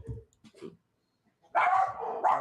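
A dog barks close and loud in a few quick bursts at home, following a stretch of quiet and faint talk.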